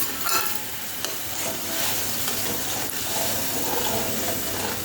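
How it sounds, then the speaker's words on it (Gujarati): Water coming to a boil in a pot for farali upma made with rajgira and rock salt, a soft bubbling, hissing simmer with faint clinks, steady and close, no voices. "આ પાણી સરસ ઉકળી ગયું છે."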